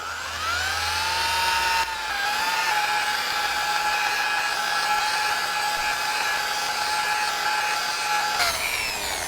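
A rotary polisher works restorer product into a car headlight, giving a continuous close motor whine. The pitch shifts once the speed is raised, then drops near the end.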